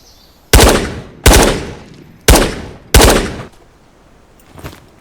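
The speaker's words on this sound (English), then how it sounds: "Take a couple shots, reposition." Four loud, sharp gunshots ring out from a close weapon in the VR shooter Ghosts of Tabor, spaced unevenly about a second apart, each with a short decaying tail, followed by a fainter distant shot.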